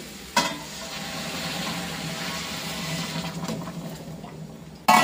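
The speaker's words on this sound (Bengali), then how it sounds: "তো এখন দিয়ে দেবো গরম জল, এই যে গরম জল করে নিয়েছি।" Hot water poured into a pan of long-fried, sizzling spice masala for a vegetarian soybean curry in a home kitchen, giving a steady close hiss and bubbling that runs unbroken for several seconds, with a sharp clatter at the start and end.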